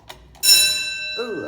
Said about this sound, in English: Oh, that's the alarm.